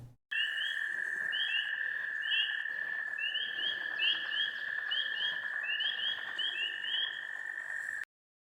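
A chorus of spring peeper frogs in Maryland woods, one shrill piercing peep held steady while other peeps repeat rapidly around it, dense and continuous outdoors.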